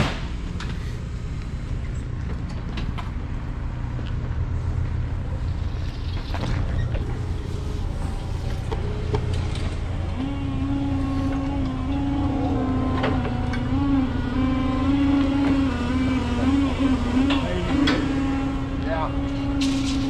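A 1995 Ford F350 crew cab long box with a big-block 460 engine pulls a homemade pontoon work barge on a homemade trailer out of the water, the engine droning steadily and rising into a strained tone under ongoing talk.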